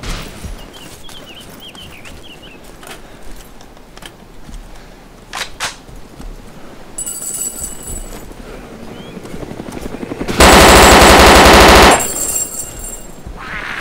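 Gunfire in the video game DayZ (Overpoch mod): scattered shots early on, then a loud, sustained burst of automatic fire near the end, heavy and close, with other game noise around it and no talk.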